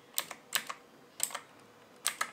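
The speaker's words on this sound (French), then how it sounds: "c'est un clavier mécanique avec des switches bleus" Clicky keystrokes from a mechanical keyboard with blue switches, tapped in short clusters of two or three sharp, crisp clicks separated by brief pauses, close and fairly quiet, with no voices.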